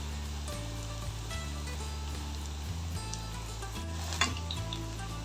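Cauliflower 65 deep-fries in a pan of hot oil, a steady, close bubbling sizzle with fine crackling and an occasional sharper pop.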